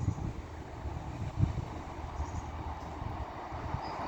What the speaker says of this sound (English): So the next train to be slowly passing through will be a 150-156 combination from Headbolt Lane to Blackburn.